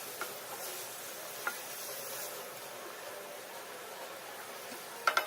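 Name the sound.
mince being stirred and fried in a pan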